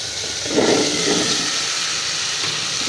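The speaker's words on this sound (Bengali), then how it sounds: "এখন আমি কেটে রাখা কুমড়োগুলো দেব" Cut pumpkin pieces hit a hot pan of fish oil, setting off a loud, broad, continuous sizzling hiss that holds steady throughout without any voices.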